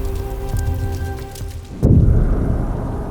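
Heavy rain as a sound effect, a dense steady wash of falling water under a low humming tone, then a sudden louder burst of downpour that stays strong to the end.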